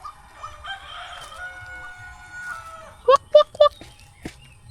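A rooster crows outdoors during feeding time: one drawn-out crow, then three short, sharp calls in quick succession, fairly close and clear over quiet background noise, with no talking.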